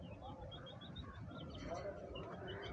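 Racing homing pigeons, including a male, coo softly in a loft, faint repeated low coos with light chirps under someone talking close by.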